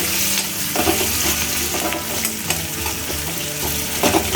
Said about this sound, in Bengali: একদম ছাড়া ছাড়া হয়ে গেল পেঁয়াজগুলো, একটার সাথে একটা লাগছে না, এত সুন্দর ভাজা হচ্ছে